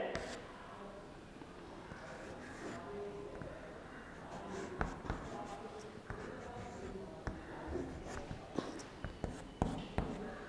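Writing an example by hand in a secondary school maths lesson: faint scratching and tapping strokes with sharper clicks toward the end, heard under a soft, muffled background.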